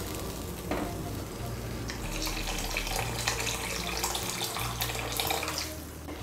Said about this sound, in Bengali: আমি এর মধ্যে 3 কাপ গরম জল দিচ্ছি।